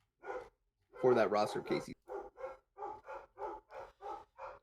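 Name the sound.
dogs barking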